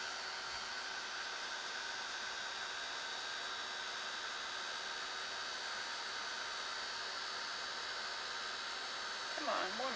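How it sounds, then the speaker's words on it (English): A heat gun blows hot air for a handmade Christmas card, a steady, loud hiss that holds unbroken from start to end, with a brief faint rattle near the finish. "now my heat gun"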